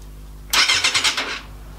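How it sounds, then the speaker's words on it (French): A motorcycle starter motor cranks in a short burst of rapid rhythmic pulses, close and fairly loud, stopping after about a second without the engine catching. "le démarreur fonctionne"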